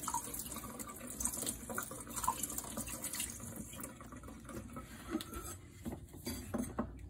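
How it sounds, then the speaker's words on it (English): Tap water runs into a small cluttered RV sink as vegetables such as celery are rinsed, a soft continuous splashing and patter with faint handling noises, quiet and close. "Give them a rinse. In our somewhat cluttered little sink here."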